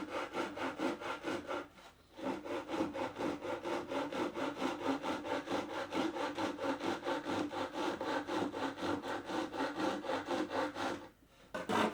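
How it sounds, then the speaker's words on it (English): Steady back-and-forth strokes of a hand saw cutting into wood while restoring a Victorian writing slope, close and continuous with a brief pause near the start and another near the end. "I've already been carefully sawing away at this in line with where I need to go."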